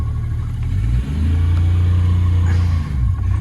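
A Tohatsu MD50B2 50 hp outboard engine revs up and holds a steady, droning rumble for a few seconds, loud and close, with a brief dip before rising again.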